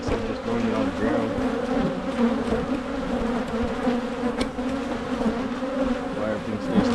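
Honey bees pour out of an opened colony during early spring hive work, forming a dense, continuous buzzing hum close by that holds steady from start to finish.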